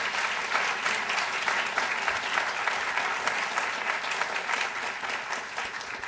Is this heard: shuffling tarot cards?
no